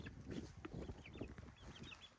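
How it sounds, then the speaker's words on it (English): Chickens on a homestead cluck and chirp in short bursts close by, with soft rustling and scratching from the flock moving about. "you can check out these birds, these chicks here"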